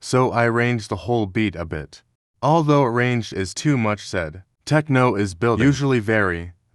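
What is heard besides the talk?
None of the usual background noises is heard.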